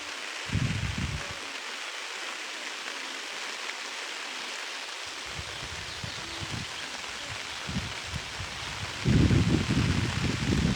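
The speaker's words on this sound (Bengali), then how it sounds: "প্রচুর বৃষ্টিপাত হচ্ছে" Heavy rain falling outdoors beside the Bhairab river during a low-pressure storm, a continuous hiss of rainfall with occasional gusty bursts and louder patches, moderately distant.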